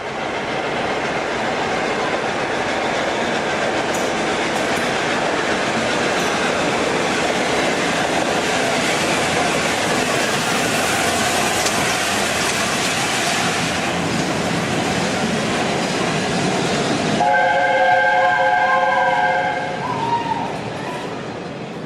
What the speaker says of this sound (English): We're back at York Station, awaiting the arrival of 60009, an A4 class Pacific locomotive named Union of South Africa.